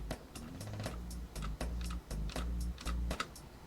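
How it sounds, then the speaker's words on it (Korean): Computer keyboard keys clack in quick bursts of sharp, evenly spaced taps while a rhythm game, A Dance of Fire and Ice, is played, the clicks loud and close over a low steady hum with brief pauses between runs. "키보드 시끄러워서 어떡해."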